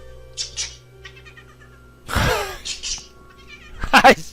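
A cat meows a few times in a zombie video game from 2008: a soft short mew, then a loud drawn-out meow, then a sharp final cry, all close and clear.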